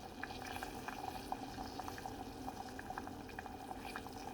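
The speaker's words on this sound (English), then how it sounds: "I'm gonna let this come up to a light simmer and just simmer these a few minutes until they're soft" Pumpkin pieces simmering gently in a pot on the stove, a steady soft bubbling with small popping blips throughout, moderately quiet and continuous with no voices.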